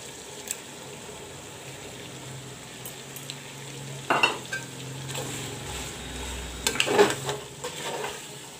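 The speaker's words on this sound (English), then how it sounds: "The tomato puree also will be browned with the masala and the mutton." Tomato puree, masala and mutton browning in a pan for a cumin mutton curry, with a soft steady sizzle and occasional spoon stirs and scrapes against the metal, close and moderately quiet.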